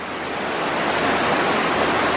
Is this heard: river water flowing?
yes